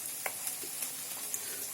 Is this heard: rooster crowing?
no